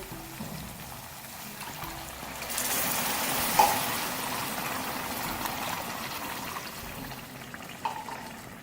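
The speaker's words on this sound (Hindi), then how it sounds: "अब पानी शामिल करेंगे 2 गिलास।" Two glasses of water are poured into frying dal in a pan, a rushing pour and sizzle rising midway and then settling into a steady bubbling hiss.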